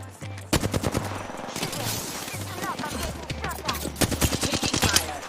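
Rapid automatic gunfire in a video game shootout, dense bursts of shots crackling continuously over a low in-game hum, with brief spoken callouts mixed in.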